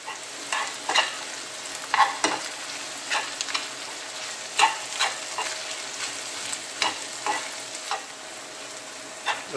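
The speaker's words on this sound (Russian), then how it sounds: "Жарим, чтобы кусочки курицы стали немного подрумяниваться" Chicken pieces fry in a pan as a spoon stirs them, with a continuous soft sizzle broken by repeated scraping strokes in an irregular rhythm; no one speaks.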